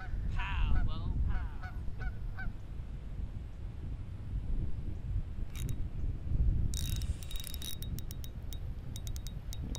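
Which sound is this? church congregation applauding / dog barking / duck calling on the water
duck calling on the water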